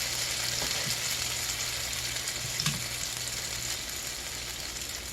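Eggnog-dipped bread frying in butter in a pan, a steady close sizzle with faint scraping and stirring clicks, no talking.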